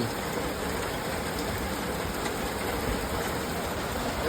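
Heavy rain pours down steadily, a dense, loud hiss with no pauses and no voices.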